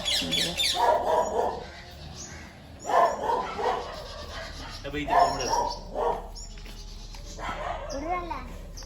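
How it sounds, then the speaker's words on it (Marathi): Large dogs bark in several short bursts a couple of seconds apart, fairly close, with birds chirping faintly between them. "इकडे पण डॉगी आहेत ना मोठे मोठे"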